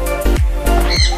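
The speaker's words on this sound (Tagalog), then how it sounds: "Ayun pala dito mga ibon guys sa wildlife" Harsh squawking bird calls at a wildlife park, several quick raucous cries in a row, loud and near.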